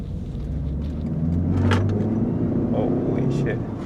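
A 2022 Land Rover Defender Heritage Edition accelerates at full throttle, its engine rising into a loud, deep roar with rising pitch, heard from inside the cabin along with voices.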